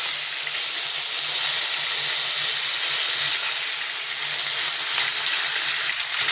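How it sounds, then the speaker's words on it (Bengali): Five fish, unseasoned with turmeric, fry in hot oil, giving a loud, steady, close hiss and sputter that stays constant throughout without any voices. "একবারে আমি 5টা মাছ দিয়ে দিলাম। মাছটা ভাজা হবে আস্তে আস্তে"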